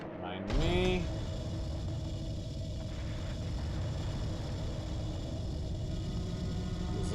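In the horror video game Eternal Darkness, a door opens with a short creaking groan near the start, then a low mechanical rumble carries on steadily to the end.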